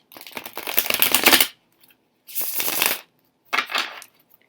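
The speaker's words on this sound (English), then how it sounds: "let me show you how they shuffle" Orisha Tarot cards being shuffled in three bursts of crisp riffling and flicking, close and fairly loud, separated by short silent pauses, with no talk.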